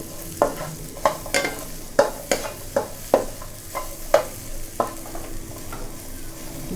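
Dried chillies with a pinch of salt dry-roasting in a pan over medium heat, with rhythmic scraping strokes of a spatula about every half second over a quiet, dry crackle.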